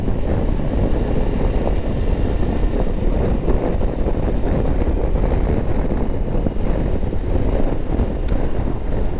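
Strong, roaring wind buffeting a rider on a Suzuki V-Strom 1050DE motorcycle on the road, a loud continuous low rumble with no gaps.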